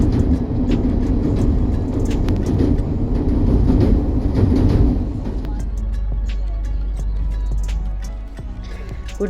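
A passenger train pulls out of Bhubaneswar station bound for Puri, its broad rumble loud and close for about five seconds, then settling into a steadier low drone with faint rattles.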